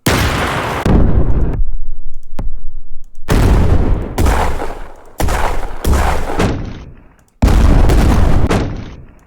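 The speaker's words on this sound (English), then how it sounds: "let's just give it a explosion" Several heavy explosion bursts from an effect made in Unity for a first-person shooter game, loud and booming, each a sharp blast with a decaying rumble, coming in quick succession alone.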